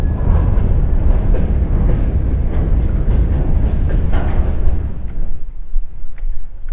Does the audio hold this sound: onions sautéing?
no